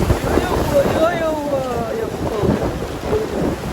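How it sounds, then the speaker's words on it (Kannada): Rain and thunder during a stormy day at a home in Karnataka: a steady, broadband rush of rain with low rumbling thunder and wind buffeting the microphone, continuous throughout. "ಈಗ ಮಳೆ ಬರ್ಲತ್ತದ."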